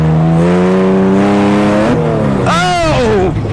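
A Baja vehicle on a track revs its engine in a loud, close, rising drone, eases off briefly, then opens up again in a second sharp climb in pitch.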